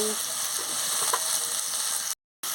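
Eggplant curry sautéing in a pan, a steady soft sizzle and frying hiss with faint stirring scrapes, continuing evenly before a brief cut to silence near the end.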